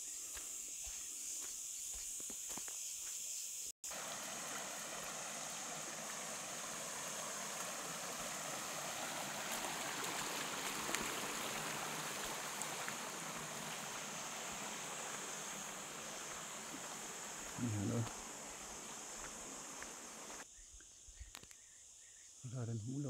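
A vehicle crosses a river on the way up to a plot of land, with a steady, close wash of flowing water and splashing running throughout and brief knocks near the end.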